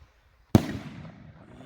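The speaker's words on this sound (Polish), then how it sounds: "Te rakiety są bardziej hukowe." One sharp, loud Tiger Rocket firework bang bursts out of near silence, followed by a long rumbling echo that slowly fades.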